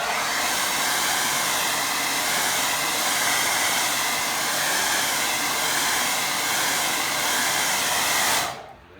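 A hair dryer blasts steadily over a watercolour painting, a loud, even rushing whoosh that runs unbroken for several seconds before cutting off abruptly near the end.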